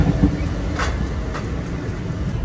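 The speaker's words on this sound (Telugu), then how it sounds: "సో ఫైనల్లీ ట్రైన్ అయితే స్టార్ట్ అయింది వాషింగ్టన్ డీసీ నుంచి." A high-speed train pulls out of Washington DC Union Station, a steady low rumble of wheels and carriage with faint rhythmic clicks, heard from inside the car.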